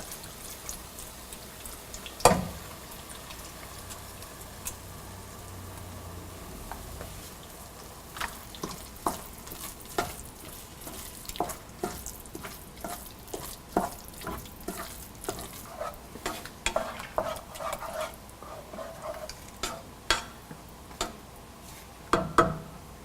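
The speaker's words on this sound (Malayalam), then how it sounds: "തൈര് ഒഴിച്ച് നല്ലപോലെ മിക്സ് ചെയ്യുക" A spoon stirs curd into cooked beetroot pachadi in a pan off the heat, giving soft, wet scraping and clicking sounds. They come in uneven bursts, close but fairly quiet, with no voices.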